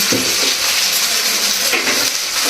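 Taro (arbi) rolls frying in a pan, a steady close sizzle and hiss with a few soft stirring scrapes, heard alone without talk.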